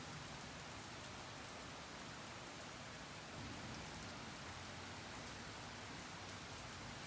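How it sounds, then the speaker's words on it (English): Steady afternoon thunderstorm rain, a dense unbroken hiss of drops falling on surfaces, faint and even throughout with no distinct thunder clap standing out. "I saw 2 flashes, and I've heard a little bit of thunder."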